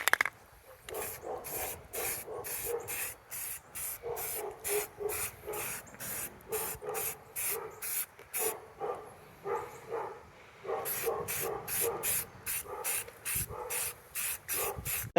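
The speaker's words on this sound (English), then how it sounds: "So just want to get a few things like that bare metal and stuff painted." Spray paint from an aerosol can goes onto the bare metal parts of a scooter in a long run of short, sharp hissing bursts with brief gaps between them, close by and with no talking.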